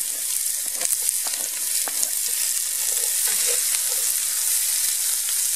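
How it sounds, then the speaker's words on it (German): Onions frying in a pan for Zwiebelrostbraten, a constant soft sizzle with scattered crackles and pops, close and alone with no talking. "Jetzt tue ich ein paar Zwiebeln rein und dann eine Tomatenmark"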